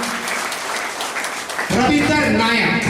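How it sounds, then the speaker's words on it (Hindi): Audience at a Safe Shop stage event claps steadily for a person called onto the stage; the clapping stays dense and even, then a voice over a loudspeaker talks on top of it. "जोरदार ताली दोस्तों"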